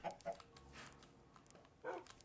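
A tamed dog in Minecraft giving short, faint yips and barks, two near the start and one more near the end, over quiet game ambience.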